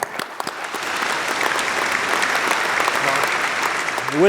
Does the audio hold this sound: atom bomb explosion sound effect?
no